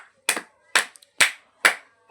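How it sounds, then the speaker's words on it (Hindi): Children clapping hands in a classroom quiz, five sharp, evenly spaced claps ringing out close and loud with brief silence between them. "ताली बजाओ भाई।"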